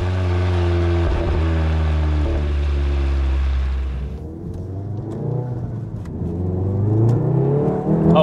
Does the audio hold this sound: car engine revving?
yes